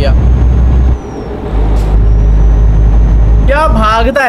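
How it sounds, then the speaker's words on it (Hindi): Heavy truck in a driving game rolls along with a loud, steady low engine drone and a brief air-brake hiss, while someone talks excitedly over it toward the end. "क्या भागता है यार अपने ट्रक"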